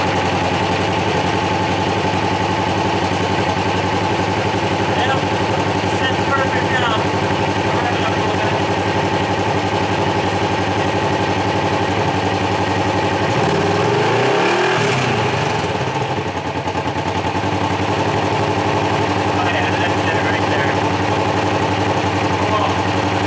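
A Polaris RZR XP 4 1000 engine idles steadily in neutral, close by, with a constant drone and a brief louder rumble midway through.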